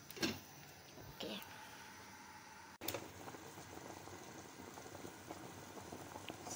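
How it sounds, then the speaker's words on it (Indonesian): Water comes to a boil in a pot for vegan Chinese kudzu root soup (fankok thong), giving a steady rushing bubble-and-hiss with a couple of sharp clatters near the start and a brief cutoff midway. "Tambahkan air, biarkan mendidih"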